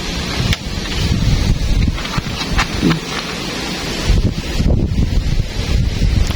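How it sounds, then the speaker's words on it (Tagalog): Strong wind buffeting the microphone in heavy low rumbling gusts at an outdoor airgun fishing spot, with rustling noise and occasional sharp knocks throughout. "Lakas ng hangin, no?"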